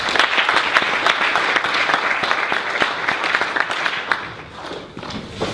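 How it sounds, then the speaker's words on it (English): A room full of people gives a sustained round of applause for a small group at a high-performance talk, dense overlapping claps with a few sharper close-up hand strikes, steady throughout before easing slightly near the end. "give these guys a round of applause"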